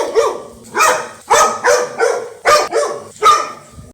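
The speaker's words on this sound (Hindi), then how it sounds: "उसके बाद टोनी कुत्ता ने भौंकते हुए बोला" A cartoon dog barking in a run of about seven loud, sharp barks in an uneven rhythm, close and with no talk over them.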